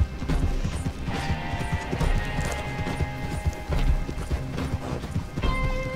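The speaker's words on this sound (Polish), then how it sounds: "To jest mój koń." Horse hooves clip-clop steadily in Red Dead Online, a rider's own horse moving at a walk or trot with dense rhythmic thuds and occasional whinny-like tones over a busy game soundscape.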